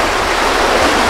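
Water flowing in an irrigation ditch in a neighborhood of San Agustín Etla, near Oaxaca, gives a steady, loud, broadband rushing wash with no talk over it.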